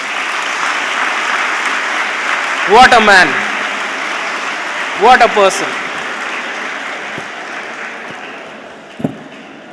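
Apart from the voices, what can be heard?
audience applause for cricketer Sanju Samson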